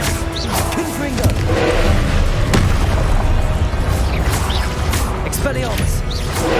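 Spell explosions from the Confringo fire spell crash and boom in Hogwarts Legacy, loud repeated bursts amid combat effects, with a player talking over the action.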